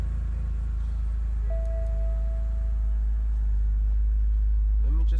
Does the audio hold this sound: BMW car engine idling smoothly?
yes